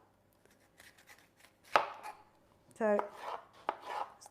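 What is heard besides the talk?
dicing capsicum with a sharp knife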